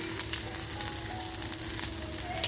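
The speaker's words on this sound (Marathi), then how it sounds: "तर बघा कांदा आपला छान असा फ्राय झालाय" Onion sizzling steadily in hot oil for a dry-fish kofta curry, a dense continuous crackle with small pops, close and fairly loud, no voices.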